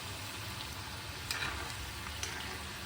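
Wheat flour kapnya shallow fry in oil while a spoon moves them around, making a quiet, steady frying hiss with a couple of faint spoon scrapes and no talking.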